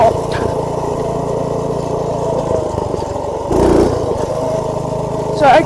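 A Motovox Predator minibike engine drones steadily at close range throughout the ride, with wind and a rider talking over it, and a brief louder surge near the end.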